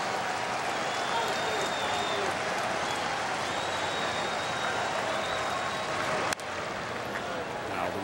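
Baseball stadium crowd at a White Sox at Red Sox game in Boston, a broad sustained roar of cheering and applause, with a sharp knock breaking through near the end.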